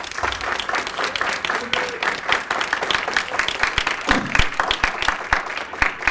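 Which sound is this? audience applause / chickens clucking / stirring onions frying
audience applause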